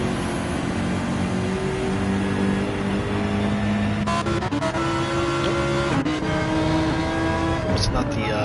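Engine note of a BMW race car in a sim racing game lobby race, a steady loud drone running throughout alongside other cars, with commentators talking over it.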